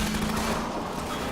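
Rapid steady gunfire rattles continuously from a mounted gun on a vehicle in Half-Life 2, close and loud over engine noise.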